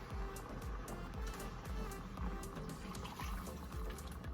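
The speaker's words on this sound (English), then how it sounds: "I'm gonna add the rest of the water" Water pours into a pot of Mexican-style rice cooking with sauce and shrimp, a steady trickle running through the whole stretch with a low rumbling texture and no voices.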